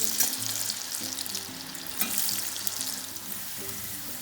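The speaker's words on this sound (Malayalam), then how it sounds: "ഇതേപോലെ തന്നെ നമുക്ക് ബാക്കിയുള്ളതും ഫ്രൈ ചെയ്തെടുക്കാം" Corn kernels deep-frying in oil for a crispy corn snack give a steady broadband sizzle with soft crackles and a few sharper pops, close and moderately loud, with faint low tonal hum beneath and no talk.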